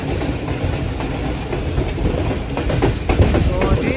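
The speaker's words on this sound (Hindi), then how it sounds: "रफ्तार में हज़ारा एक्सप्रेस अपना सफ़र जारी रखे हुए हैं।" Hazara Express passenger train running at speed on rails in Pakistan, a steady loud rumble and rattle of carriages with clickety-clack rhythm throughout, heard from on board.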